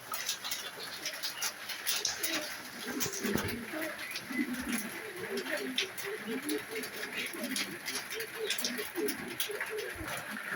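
Budapest pigeons at a pigeon sale coo in a continuous, murmuring chorus of soft, overlapping calls at moderate distance, with a steady background hum.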